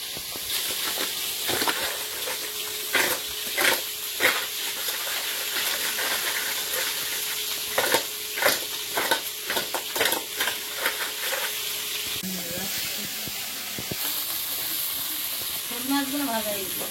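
Koi and snakehead fish fry in hot oil in a pan, a steady close sizzle and hiss broken by scraping stirring knocks, with brief speech near the end.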